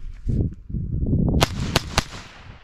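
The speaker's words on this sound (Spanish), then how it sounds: "efectué algunos disparos" Three sharp gunshots crack in quick succession from a Ruger 10/22 Takedown .22 rifle, after a stretch of low rumbling and handling noise.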